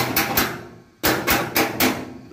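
A hammer strikes repeatedly while a unitized electrical panel board is being installed, five sharp, loud blows close by in an irregular rhythm with a short pause between the first two and the rest.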